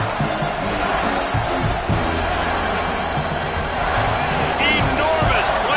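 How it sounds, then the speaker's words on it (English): A college football stadium crowd roars during a Penn State versus Michigan game, a loud, dense, continuous wash of cheering and yelling that fills the whole stretch, with a commentator's voice talking over it. "3rd down, and this crowd is bringing down the house."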